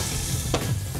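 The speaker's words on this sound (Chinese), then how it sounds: "我用煎的，不是用炸的。" Penghu king prawns pan-frying in a hot pan, a steady close sizzle with a brief scrape of stirring partway through.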